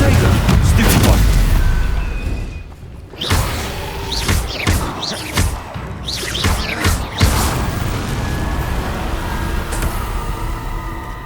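A Confringo explosive spell in Hogwarts Legacy bursts with a loud opening boom, followed by a flurry of thumping impacts and sharp combat effects, with voices calling out over the fight.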